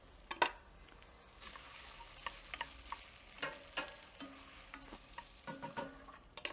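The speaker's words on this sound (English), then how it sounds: "And then we add the garlic to the Dutch oven." Garlic sizzles in a Dutch oven on a Big Green Egg, with a steady soft frying hiss broken by stirring clicks and scrapes, fairly quiet and close.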